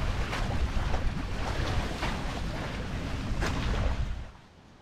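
Sailboat under way on the sea off Boracay Island in the Philippines, with steady wind buffeting and water rushing past the hull throughout before easing at the very end; no voices.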